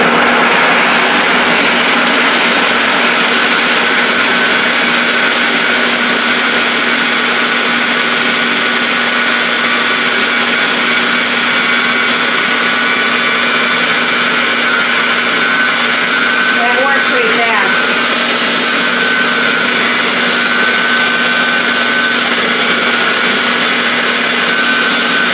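A blender runs on high speed grinding garlic cloves, a loud steady whirring roar that holds evenly for the whole stretch with no pauses.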